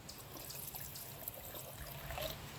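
Distilled water pours into a glass, a faint, steady trickle and splash running continuously for a few seconds without any talk.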